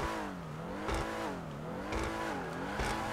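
A stock Dewbauchee Specter Custom sports car engine revs repeatedly in a video game, pitch swooping up and down in waves with a few sharper bursts, loud and close.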